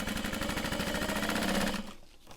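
A sewing machine bastes a seam on fabric for a bag, with a rapid, even stitching rattle running close and steady before stopping abruptly near the end.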